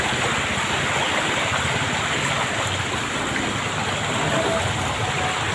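Floodwater from the Navotas navigational gate rushes in a steady, loud, broadband roar along a Malabon street, continuous and unbroken with no voices over it.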